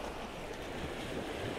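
Ocean surf washing in and draining back over beach rocks, a steady broadband wash of water with wind noise on the microphone, continuous and fairly close, no voices.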